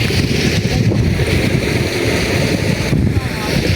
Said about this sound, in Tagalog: Ang hangin. Presko, presko.